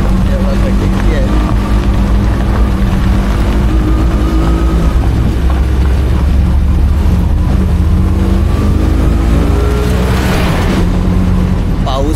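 An auto rickshaw rattles over a potholed road near Sangameshwar, its engine droning loudly and steadily throughout with jolting bumps and indistinct voices mixed in.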